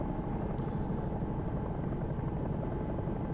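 Bell 222 helicopter in X-Plane 11, a steady loud rotor and turbine drone with a dense low throb and a brief high whine near the start, no talk.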